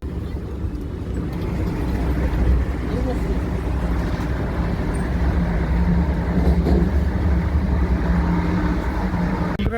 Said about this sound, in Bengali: নির্ধারিত সময়ে আমাদের ট্রেনটি মালদা স্টেশনে প্রবেশ করলো 240 কিলোমিটার পথ পেরিয়ে